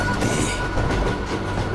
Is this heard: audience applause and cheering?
no